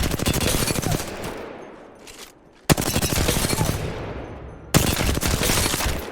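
R301 rifle in a video game firing without a barrel attachment: rapid full-auto bursts of loud gunfire, a short pause with trailing echoes, then further sustained bursts.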